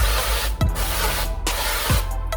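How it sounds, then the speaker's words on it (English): Avocado oil spray hisses onto cauliflower in a few bursts, loud and close over a broad steady rushing noise. "We'll spray a little bit more onto the cauliflower."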